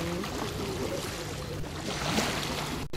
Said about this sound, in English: just the sounds of the waves and the birds